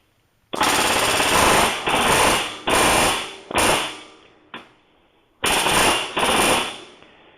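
A pneumatic rivet gun bucks rivets on the left wing ribs of an RV-10 kit aircraft, firing in loud, close rapid-fire bursts roughly a second long, with brief gaps and a shorter burst near the middle.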